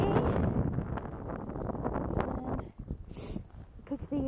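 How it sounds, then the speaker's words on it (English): Blustery outdoor wind on a cold day buffets the microphone with a steady low roar and rumble that eases off toward the end, where a few fainter knocks and sounds remain. "Is it ever windy out"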